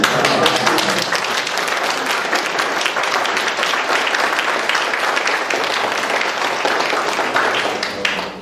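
Sustained, dense applause from a debate audience for both candidates in a state assembly district race, loud and even from start to finish before tapering at the very end.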